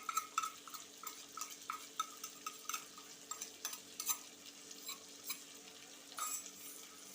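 Fish cooking in a pan with a paste of red chili, chili powder and turmeric frying in oil, giving a steady close sizzle broken by repeated light scrapes and clinks of a spoon stirring against the pan.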